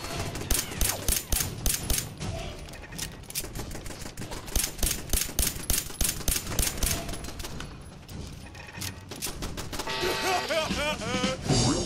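Video game gunfire in a zombie survival game: rapid, loud bursts of repeated shots keep up a steady rhythm for several seconds, with speech-like sounds mixed in near the end.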